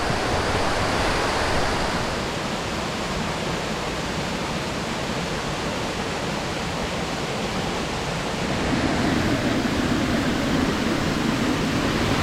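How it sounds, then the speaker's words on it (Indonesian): Curug Siliwangi, a waterfall at Nagara Puntang, roars in a loud, continuous broadband rush heard up close. It stays steady throughout with no voices. "Namanya air terjun Siliwangi atau Curug Siliwangi."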